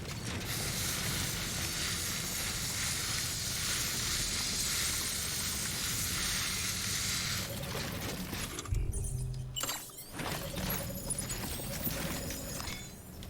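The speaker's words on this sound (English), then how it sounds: "But we will first do the repair spray because we're going to recycle this too" Repair spray used in the video game Death Stranding, a steady loud spraying hiss lasting about seven seconds, then cutting off into mechanical clicks and game tones.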